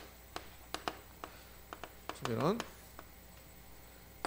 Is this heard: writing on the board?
yes